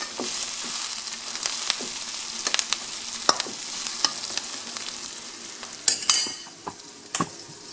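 Spices fry and get stirred in a pan for Indian-style cabbage, giving a steady sizzle with scattered spoon scrapes and clinks against the pan, close and clear with no voices.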